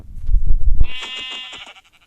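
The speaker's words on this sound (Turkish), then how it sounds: "Şurada da koyun var" A single drawn-out Minecraft sheep bleat with a buzzy, harmonic tone, following a few low thumping footsteps, then fading out.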